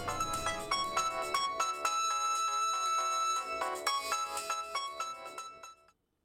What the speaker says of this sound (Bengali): প্রথমবার ফোন বাজলো,